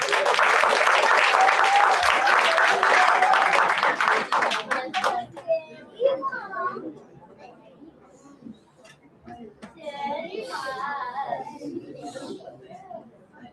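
A crowd applauds after a speech at a solo graduation performance, loud and dense clapping for about five seconds that then thins into scattered claps and murmuring voices, with a brief renewed swell toward the end.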